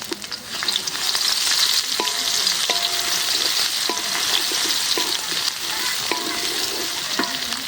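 Bay leaves and chopped garlic fry in hot oil, making a loud, continuous close sizzle. A utensil scrapes and knocks against the pan at a steady rhythm about every second. No voices are heard.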